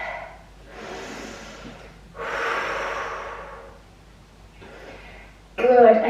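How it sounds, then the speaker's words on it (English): Deep audible breaths during a Pilates stretch on all fours, three long airy inhales and exhales in a slow rhythm, close and fairly soft, followed by an instructor's voice. "Nice deep breath."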